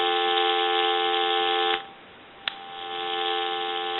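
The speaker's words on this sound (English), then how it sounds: "And give you dial tone." A steady dial tone hums from an AT&T 5.8 GHz EP5632 cordless phone handset, interrupted by a short gap and a brief click before resuming at an even level.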